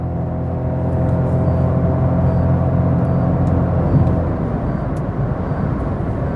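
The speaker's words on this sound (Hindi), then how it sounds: "ये गाड़ी कॉन्स्टेंटली स्पीड फिर पकड़ती रहती है" A Toyota Hyryder G hybrid SUV with a single-gear CVT accelerates, giving a steady, even engine and motor whir that holds constant without gear changes.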